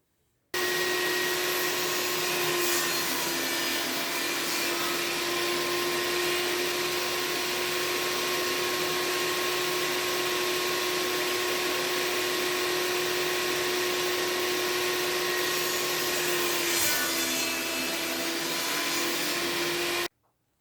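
A table saw cuts a wooden hexagon piece, trimming off a flat section, with a loud, steady whine and broadband roar that holds for about twenty seconds before stopping abruptly.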